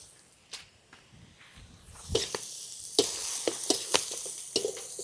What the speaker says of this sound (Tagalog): Igisa lang natin konti.